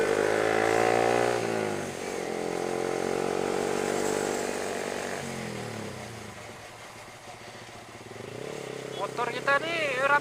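A motorcycle on a ride after its loose chain was tightened, its engine droning steadily and loudly up close with a revving pitch that then drops away.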